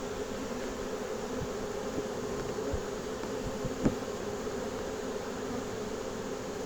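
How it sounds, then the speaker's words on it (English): A swarm of honeybees freshly settled into a box hums in a steady, dense drone that stays even throughout, close and continuous, with a faint knock partway through and no voices. "We just put this swarm of bees in a box. And listen to that."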